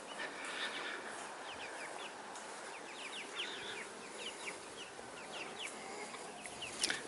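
Meat chickens in their pen give soft, repeated clucks and chirps at moderate distance, steady throughout over a low background hum with buzzing insects.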